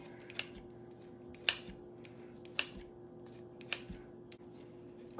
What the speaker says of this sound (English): I'm just using my kitchen scissors today. Just chopping it in chunks.